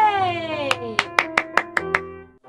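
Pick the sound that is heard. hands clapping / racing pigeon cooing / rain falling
hands clapping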